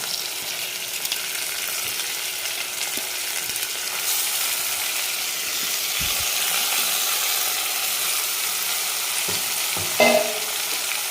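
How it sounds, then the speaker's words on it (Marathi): Turmeric-and-salt marinated mutton sautéing in a pan with golden fried onions, a steady close sizzle with occasional stirring scrapes and clinks, no talk. "आपण चांगला याला पाच मिनिट आपण हे करणार आहे परतून घेणार आहे"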